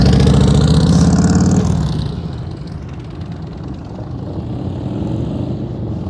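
A motorcycle engine downshifts during slow-speed riding practice, a loud harmonic drone dropping off after about two seconds into a quieter, steady idle-like rumble.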